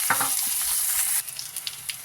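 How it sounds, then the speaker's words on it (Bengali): Chopped onion and green chillies fry in hot oil, giving a close, steady crackling sizzle that briefly drops slightly in level partway through. "পেঁয়াজটা ভাজা হয়ে এসছে"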